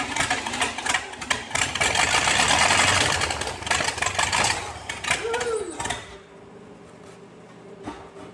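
A 265 engine running roughly while being coaxed, a loud uneven close rumble that swells, wavers, then drops to a quieter idle with faint knocking near the end.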